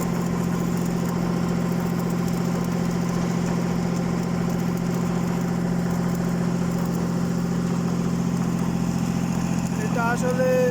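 A construction machine used for piling work runs continuously at close range, holding a steady low engine drone with a rumbling vibration throughout, and a voice briefly cuts in near the end.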